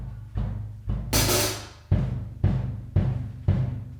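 An acoustic drum kit picked up by a Coles room microphone from across a roomy space: several spaced kick and snare hits with a splashy cymbal crash, sounding distant and reverberant.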